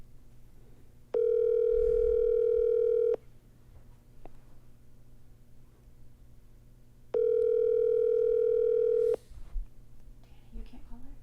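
An outgoing phone call rings back twice, each steady two-second tone separated by a few seconds of quiet, with faint room noise and low background voices between rings.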